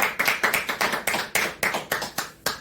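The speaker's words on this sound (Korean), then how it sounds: "박수." About a dozen loud, evenly spaced claps from a small number of people, close and crisp, slowing slightly toward the end.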